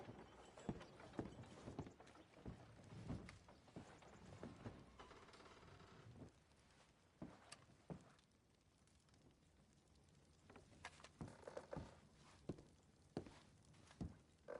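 In Red Dead Redemption 2, horses' hooves clip-clop at a walking pace. The clopping is quiet and uneven and comes with a few soft thuds and rustles, and no one speaks.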